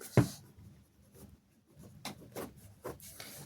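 Pen scratching across paper while working out a trigonometry proof, with several short rubbing strokes in quick bursts, close and fairly quiet after an initial louder tap.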